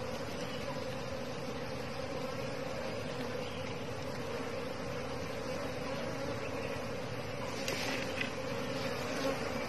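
A swarm of wild forest bees from a large multi-tier honey hive in Kon Tum drones steadily and close, a dense continuous buzz with a few louder passes near the ear, and no speech.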